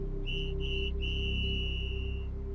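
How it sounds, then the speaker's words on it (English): Three sharp whistle blasts ring out in quick succession, the last one held longest, near and loud over a low steady hum, with no voices. "3 angry whistle blasts split the air."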